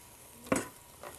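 A brief, faint sizzle of onion and garlic hitting hot olive oil in a pan, with a softer second hiss shortly after.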